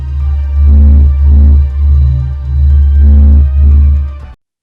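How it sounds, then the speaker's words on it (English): Sonified space recording of the Sun, a deep, loud, pulsing low drone that swells and fades in slow rhythmic throbs, about four surges before ending abruptly. "This is the sound of the Sun."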